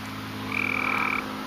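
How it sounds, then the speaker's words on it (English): A gray tree frog gives a single short trilling croak, a sustained pulsed call about three quarters of a second long, close and clear over a steady low hum. "got another tree frog today"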